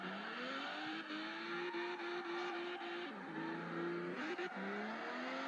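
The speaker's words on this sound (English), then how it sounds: "You really have to rev this car hard" A Lotus in the Assoluto Racing game revs hard and steadily, its engine note climbing through gear changes with brief dips, a continuous close racing drone with no talking.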